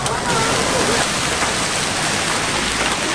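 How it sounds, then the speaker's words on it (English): Hailstorm pounding down during an evening in St. Augustine, Florida, a dense, loud, continuous hiss and clatter filling the whole moment without a break. "It went from zero to hail."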